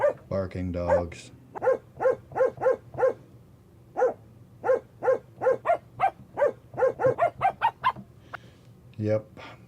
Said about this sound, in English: barking dogs.